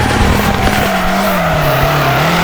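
Car drifting in the video game FR Legends, a steady loud engine drone with a sustained tire squeal wavering in pitch throughout.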